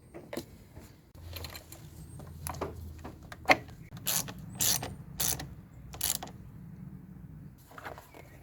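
Bolt being threaded back into the grille of a Ford Focus Mk1, with a series of ratcheting clicks and sharp mechanical snaps, close and fairly loud, with no talking.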